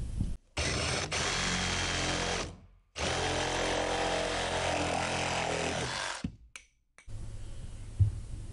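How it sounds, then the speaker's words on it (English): Sawzall reciprocating saw cutting into a plastic 330-gallon IBC tote, loud and close in three long bursts separated by brief pauses, ending with a short quieter stretch. "I'm going to take a Sawzall to it."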